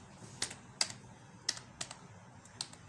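Computer keyboard keys, Windows plus E, are pressed in a handful of sharp, quiet clicks spaced irregularly across a near-silent room.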